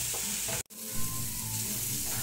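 Chopped vegetables salted and cooking in a pan for Indian-style macaroni give off a steady, close sizzle that cuts out for a split second, then resumes evenly.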